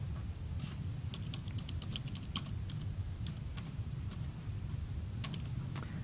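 Rapid, irregular clicks of keys being typed on a keyboard, steady and fairly close, over a constant low background hum.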